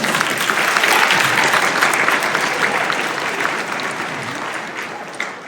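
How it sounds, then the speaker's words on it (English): An MLK Day keynote audience applauds itself in loud, full clapping that peaks early and slowly fades over several seconds, with a stray clap near the end. "give yourselves a round of applause"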